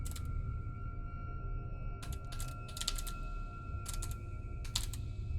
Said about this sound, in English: I'll do my fake typing here.